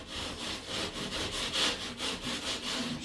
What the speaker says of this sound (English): I'm gonna use my rasp.